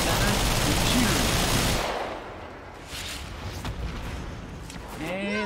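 Gunfire rattles through a Warframe boss fight against Kela De Thaym, starting as a dense, loud barrage of rapid shots, then thinning into scattered bursts, with a voice speaking near the end.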